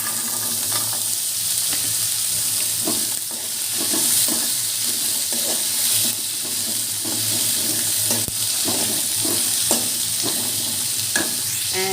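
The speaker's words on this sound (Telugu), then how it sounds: "మనం ఉడకపెట్టుకున్న శనగలు అయితే ఇందులో వేసేసుకోవాలి." Boiled chickpeas frying in a pan, a steady loud sizzle and hiss under repeated scraping stirs at an uneven rhythm, close by with no talking.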